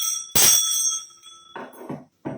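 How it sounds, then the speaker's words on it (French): A single hand bell rung once during a church prayer service, a bright metallic ding with long ringing overtones that fade slowly, followed by a few soft low murmurs. "Pendant que je sonne la cloche une fois"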